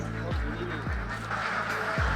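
Ducks on a duck farm giving several loud, close, nasal quacks in short downward-sliding calls over a constant background hum.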